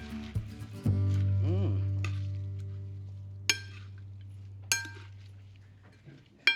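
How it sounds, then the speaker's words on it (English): A salad of raw and cooked vegetables with kale, dressed with oil, is tossed in a bowl, giving a few sharp, sparse utensil clinks over a low steady hum, with a brief voice near the start. "So let's toss it up."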